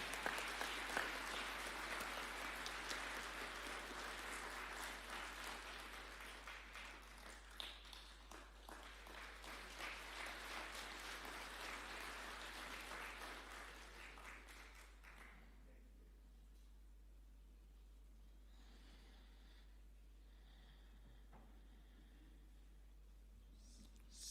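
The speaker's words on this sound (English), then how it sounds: "Another clap would be in order." An audience at a Senior Counsel conferment ceremony claps steadily for about fifteen seconds, then the applause stops and leaves quiet room tone with a low steady hum.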